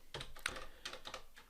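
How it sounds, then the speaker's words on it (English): Close, steady keystrokes on a computer keyboard as spreadsheet formulas are typed, several quick taps in uneven clusters with no voice over them. "it's going to be an awful lot of typing"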